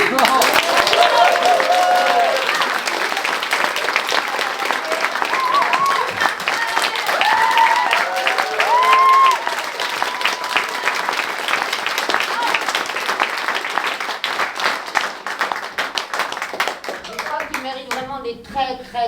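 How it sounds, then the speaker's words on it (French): A theatre audience claps and applauds steadily for a long stretch after a stage performance, with shouts and cheers rising over the dense clapping before it tapers near the end. "Très grands applaudissements parce que waouh, voilà."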